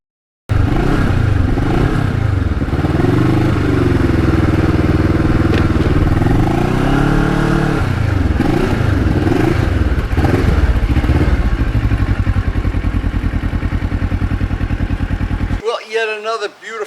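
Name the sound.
Kawasaki Ninja motorcycle riding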